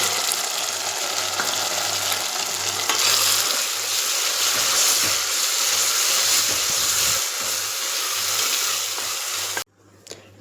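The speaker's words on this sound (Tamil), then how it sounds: "இப்போ நம்ம அரைச்சி வச்ச அந்த பேஸ்ட் போட்டுக்கலாம்" Ground fish curry paste sizzles and fries steadily in a pan while being stirred, a loud continuous crackle that runs alone until it cuts off near the end.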